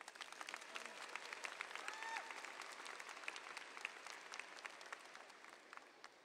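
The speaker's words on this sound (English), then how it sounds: "Please give a round of applause for our senior class officers." Applause from a high school graduation audience for the senior class officers, a steady wash of many hands clapping at moderate distance, fairly faint and even throughout, with a few murmuring voices.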